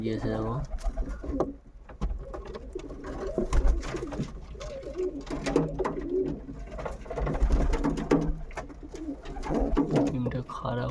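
Throaty cooing from Kaldom pigeons fills a loft where a red pigeon has laid eggs, several birds calling near the microphone in overlapping rising-and-falling phrases with brief pauses.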